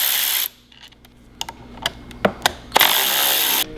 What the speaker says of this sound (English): use a torque wrench on the flywheel nut and a chain wrench on the PTO coupler and torque them simultaneously